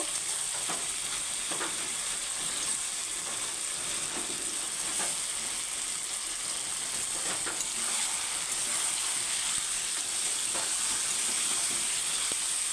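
Chicken stirred with fried turnip and potato in a pan gives a loud, unbroken frying hiss with scattered light scrapes and knocks of a spoon throughout.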